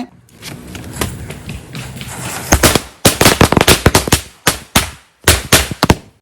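After a brief quiet hiss as a ground-spinner firecracker is lit, a string of sharp bangs bursts out in rapid irregular clusters, loud and close, with short pauses between volleys.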